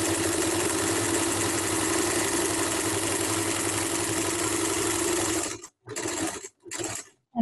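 A sewing machine stitches fabric for a face mask in a steady, continuous mechanical whir, then stops and restarts in a few short bursts near the end, close up with no talking.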